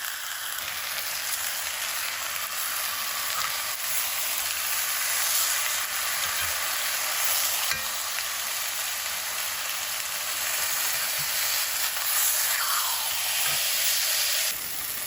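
Chicken pieces searing in a hot pan, browning on each side before going into the oven; a steady, broad sizzling hiss runs unbroken and fairly close throughout, with no talking.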